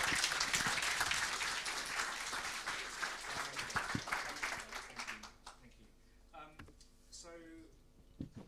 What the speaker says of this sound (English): a big round of applause and a big thank you to JT